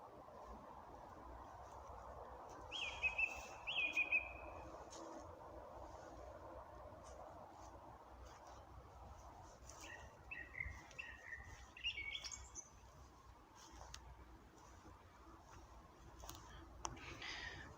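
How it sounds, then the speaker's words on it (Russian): A songbird sings in a forest with short bright chirps and trills in scattered bursts, fairly faint against a quiet, rustling background with no talking. "Как будто из дома какая-то певчая птичка сбежала."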